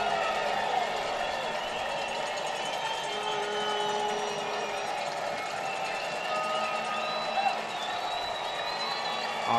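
A boisterous crowd at a New Mexico United soccer match in a stadium keeps up a steady distant roar and murmur, fairly faint, with a commentator talking over it.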